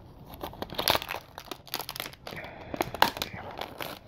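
Plastic shrink wrap crinkles and tears as it is pulled off a horror Blu-ray case of The Scarehouse, in close, irregular bursts of crackling with no talking.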